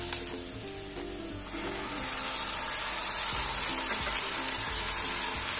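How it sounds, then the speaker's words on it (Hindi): Ginger garlic paste frying in hot oil with golden brown onions for a mutton kidney masala: a steady, close sizzle that grows louder and more crackly after the paste goes in, with faint clinks of stirring. "हमें तब तक पकाना है जब तक अदरक लहसुन अच्छे से भून ना जाए।"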